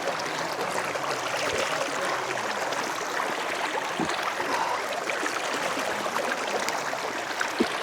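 A mountain stream flows steadily beside a rest spot in the hills, its rushing, hissing water filling the scene evenly and continuously at close range, with no voices over it.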